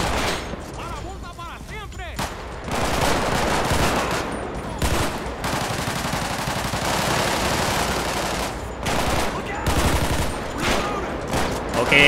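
Bursts of automatic gunfire and scattered shots from a GTA V police shootout ring out repeatedly, loud and close, with brief pauses between volleys and some background game noise.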